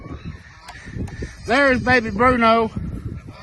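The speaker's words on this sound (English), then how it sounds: "I wish these geese would just shut up and eat" Farm geese let out a loud burst of nasal, repeated honks close by, lasting about a second, between quieter stretches where someone talks outdoors on a windy day.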